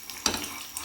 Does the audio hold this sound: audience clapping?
no